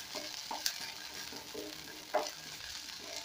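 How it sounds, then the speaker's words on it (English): Tomato paste for goat curry cooking in a hot pan, giving a faint steady sizzle with a couple of brief stirring scrapes, no talking. "I'm going to cook this for about another minute so that the tomato paste can cook"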